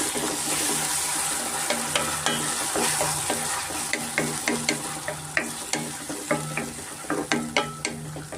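Tomato and chili puree frying in oil in a pan, a continuous sizzling hiss broken by repeated sharp scraping taps of a spoon stirring, growing more rhythmic toward the end.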